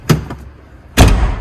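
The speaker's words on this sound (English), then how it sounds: "It's a proper slam. Yeah. Nice and solid." Land Rover Defender van door, sound-deadened with new door cards, slammed shut: a faint thud early on, then one loud, solid, close slam near the end.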